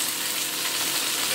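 Eggs sizzle and fry in a pan for a mixed-vegetable stir-fried rice, a loud, dense, continuous crackle heard close up.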